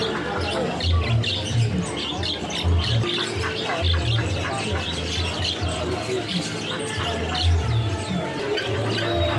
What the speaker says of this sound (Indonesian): Dan kita masih berlanjut untuk burung Mozambik imporan.